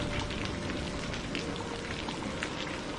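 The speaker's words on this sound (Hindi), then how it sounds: "बाहर अब भी जोरदार बारिश हो रही थी" Heavy rain pours down steadily in a dense, even hiss of drops striking surfaces, loud and continuous throughout with no pauses or voices.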